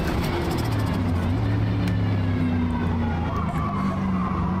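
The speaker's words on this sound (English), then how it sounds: "Sounds like the inner wheel is dragging" Tyre skid from a car in the racing game Forza Motorsport, its inner wheel dragging: a steady, sustained scrub layered over a constant engine drone, loud and continuous throughout.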